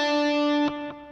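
A distorted electric guitar plays a lick: a sustained, overdriven note that breaks into two quick pull-off notes near the end, decaying slightly, solo and close.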